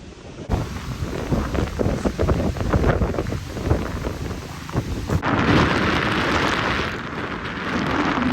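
Strong storm wind buffets the microphone at an off-road park, loud rough gusts rumbling and surging unevenly, with a denser hissing roar toward the end.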